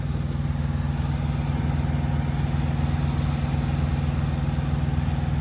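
A lowboy truck rolls in past a line of dump trucks, its diesel engine a loud, steady low rumble close by throughout, with no talking.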